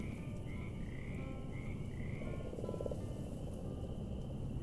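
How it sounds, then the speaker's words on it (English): Big frogs croak in the video game Mortal Shell, a steady run of repeated throaty croaks over a constant low ambient rumble, with no talk. "This is where the big frogs are."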